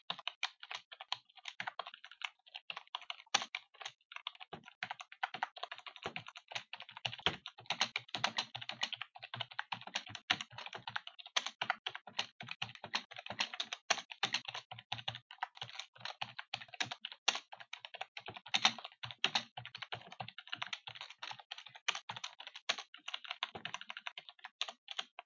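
Someone types on a computer keyboard while editing code, a long run of quick, close key clicks in an irregular rhythm with brief pauses and no talk.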